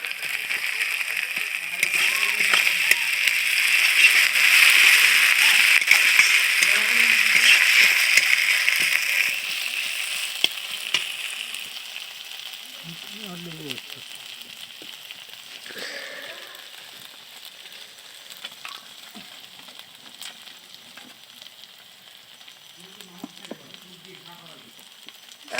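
Masala with chili paste sizzles loudly in a pan, then the frying settles into a quieter, crackling hiss broken by occasional stirring scrapes.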